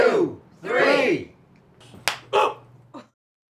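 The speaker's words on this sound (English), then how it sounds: "Put your hands out. Yeah? Clap them." A group claps hands together once on a count of three, a single sharp smack that lands between stretches of talking voices.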